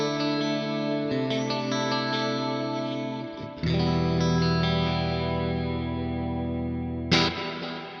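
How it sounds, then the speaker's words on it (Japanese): Electric guitar played through a Mesa Boogie Mark IIC+ amp plugin on a clean studio preset with reverb and delay, sustained chords ringing with chorus-like shimmer, a fresh strum midway and a sharp attack near the end. "エフェクトはリバーブとディレイと両方かかってるみたいな感じです。"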